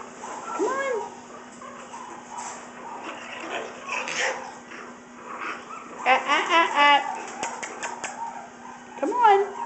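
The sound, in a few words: Shih Tzu puppies whimpering and yipping while playing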